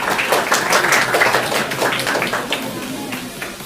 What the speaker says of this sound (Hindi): जोरदार हो तालियां इनके लिए।